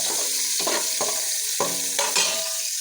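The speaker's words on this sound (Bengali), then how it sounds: "পেঁয়াজটা একটু ভাজা ভাজা হবে।" Chopped onion frying in oil for khichuri, a steady sizzle broken by several distinct stirring scrapes at roughly half-second intervals, close and fairly loud.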